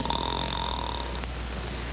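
The King snoring in an animated children's story, a steady drawn-out rasp with a faint tone running through it, loud and alone with no talk.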